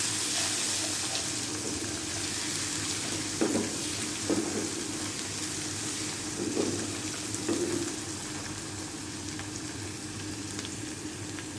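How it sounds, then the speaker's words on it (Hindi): Spices frying in a pan for chickpea pulao, a steady soft sizzle with a few brief stirring or scraping touches, close and continuous with no speech. "अब हम इसमें ये मसाले ऐड कर देंगे और थोड़ा सा हम फ्राई करेंगे।"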